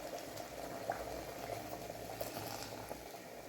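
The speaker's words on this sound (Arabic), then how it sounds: "البنات نخليها تغلي لين تقر زيتها" Chicken liver and cumin stew bubbling steadily in a pot, its oil simmering with a close, continuous, even boil and no voices.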